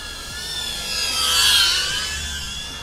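An LDARC Tiny R7 racing drone flies overhead outdoors, its small motors giving a high, whining buzz that rises and falls in pitch as it passes, loud and steady with no talking.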